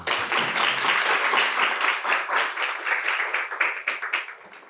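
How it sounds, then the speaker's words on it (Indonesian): An audience applauds steadily at a talk on Islamic astronomy and crescent-moon sighting, a dense wash of clapping that stays loud for several seconds before thinning slightly toward the end, with no voices over it. "Tepuk tangan dulu."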